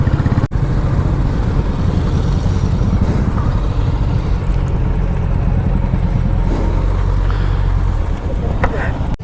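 Several motorcycles ride in a group, their engines droning steadily at close range under heavy wind buffeting on the microphone.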